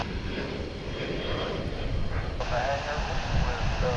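A United airliner at DFW International Airport bound for Houston Intercontinental, its engines giving a steady, loud roar with voices talking over it.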